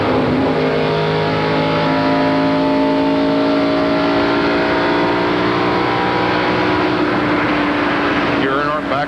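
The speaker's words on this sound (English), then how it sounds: "Ernie Irvin's going to hit the accelerator and try to run away from this field" NASCAR Winston Cup stock cars race at Indianapolis Motor Speedway in the 1997 Brickyard 400, a loud, continuous roar of engines revving and accelerating close by, with a commentator talking over the noise.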